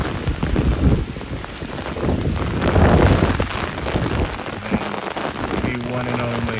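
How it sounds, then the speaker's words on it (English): Heavy rain pounds hard on a nearby surface at night in Duluth, Minnesota, a dense, constant patter with swelling surges of downpour. "Yeah, it's raining pretty hard."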